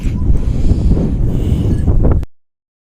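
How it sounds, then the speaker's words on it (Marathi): Strong wind roars and buffets the microphone in steady, heavy gusts for a couple of seconds, then cuts off abruptly. "लय वारा सुटलाय जोरात"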